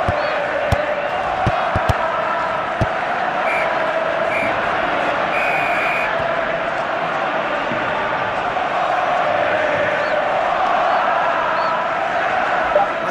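Football fans chanting and cheering in a stadium during stoppage time, a broad continuous crowd roar holding steady throughout with a few sharp claps or thumps near the start.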